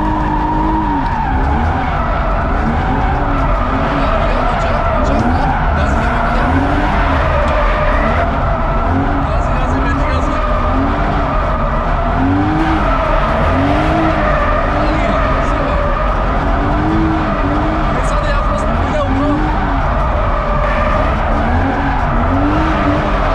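A car drifts through repeated slides, its engine revving hard and its tires squealing loudly and continuously up close for over twenty seconds, with voices talking now and then.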